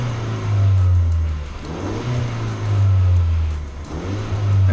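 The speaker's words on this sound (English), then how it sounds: "you're hearing significantly less revs out of the engine" A 2019-2022 Ford Ranger pickup engine hums at steady revs, rising and falling in a few gentle surges, close and loud throughout with no talking. An Axial SpeedForm throttle controller is fitted.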